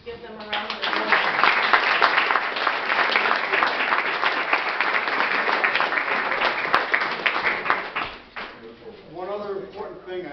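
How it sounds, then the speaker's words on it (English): Audience at a Universalist church coffeehouse concert applauds for the volunteers, a loud, dense burst of clapping that builds quickly, holds steady, then thins out near the end as a voice begins talking. "If we could just give them a round of applause."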